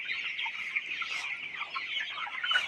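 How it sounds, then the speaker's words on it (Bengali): Chickens in a poultry shed produce a dense, continuous chorus of high chirps and clucks from many birds close by, steady and busy with no talk. "আলহামদুলিল্লাহ মুরগিগুলো খেলা করতেছে।"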